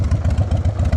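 A 2003 Harley-Davidson Sportster, a 100th anniversary model, idles up close with a loud, lumpy, steady pulsing rumble and an even mechanical beat throughout.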